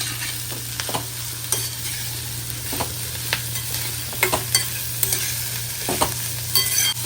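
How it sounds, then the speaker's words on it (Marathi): Spring onion, cabbage and paneer filling being stirred together in a pan, with a steady low hum beneath scattered scraping and clinking strokes of the spoon, moderately loud and with no talk. "कांद्याची पात हे अगोदर सगळं मिक्स करून घेते. नंतर मग पनीर टाकते."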